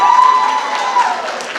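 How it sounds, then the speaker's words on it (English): An audience applauds scholarship recipients at an academic scholarship and awards program, a steady wash of clapping that holds for under two seconds with a faint sustained tone running beneath it. "Let's give all of our Carver recipients one additional round of applause."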